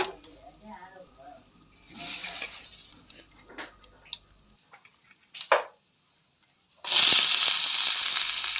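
Curry leaves drop into hot oil and burst into a loud, steady sizzle that carries on to the end, after a stretch of kitchen clatter and talk.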